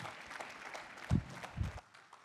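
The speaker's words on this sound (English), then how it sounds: "Let's keep clapping for Yami." Faint, scattered audience applause at a career fair, a thin patter of clapping that swells briefly in the middle before fading, heard from a distance.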